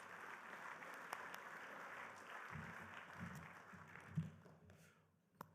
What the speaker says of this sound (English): Let's give them a warm round of applause as we head into our inductions